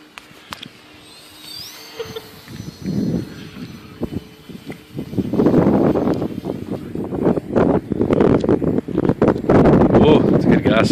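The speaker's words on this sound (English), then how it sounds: "Oh, that's a good gust." Outdoors at a Dynam Cessna 182 model airplane maiden flight, a strong gust of wind buffets the microphone with loud rumbling bursts that build and roar through the second half, while people talk.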